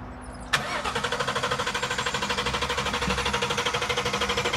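A Honda S2000 engine cranks without starting after cutting out, likely out of fuel. A sharp click is followed by a long, steady, rapid whirring of the starter with rhythmic pulses, close and loud.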